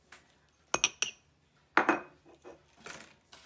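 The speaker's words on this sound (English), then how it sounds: "we're going to crack our eggs in a separate bowl, one at a time" Eggs cracked one at a time against a bowl for banana muffins: a few sharp clicks and taps in quick pairs, then a longer crack with shell rustle, faint and close, with no talk.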